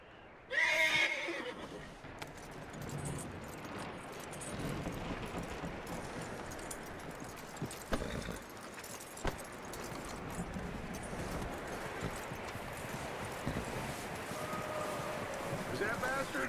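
A horse neighs loudly at the start, followed by a long bed of rumbling hoofbeats and movement, with voices talking over the noise, in the video game Red Dead Redemption 2.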